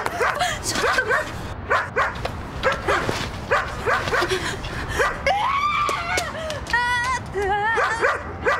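A dog in a sushi delivery commercial barks and yips repeatedly in short, excited bursts, with whines rising in pitch near the end, while a frightened person screams and shouts over it.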